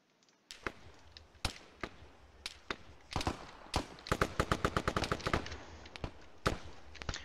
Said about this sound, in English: That would be from this garrison troop firing across to get Alpha.